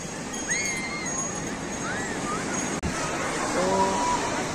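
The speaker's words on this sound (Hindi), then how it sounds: "क्या ज़बरदस्त पानी है कितनी मस्त लहरें आ रही हैं" Ocean surf at Swargdhar beach in Puri rolls in as a continuous, loud broadband roar, with people talking and a few whistle-like tones over the steady wash of the waves.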